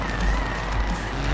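Small car tyres skid and squeal in Forza Horizon 4, with a continuous engine drone and rubbery screech filling the short burst at steady loudness.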